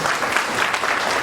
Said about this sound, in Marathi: त्याच्यासाठी एकदा जोरदार आपण टाळ्या वाजूया